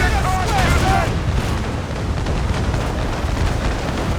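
Ship cannons fire during naval combat in the video game Assassin's Creed Rogue, a dense, loud rolling barrage of booms and rumble that continues throughout with shouted voices mixed in.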